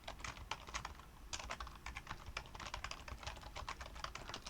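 Rapid clicking keystrokes on a computer keyboard while C++ code is typed, an irregular clatter of close, crisp taps with brief pauses, no talk.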